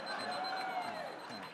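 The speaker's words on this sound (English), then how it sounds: "Let me stop that alarm there." An alarm clock rings in a steady, continuous electronic tone at moderate level, lasting about a second and a half with faint room noise around it.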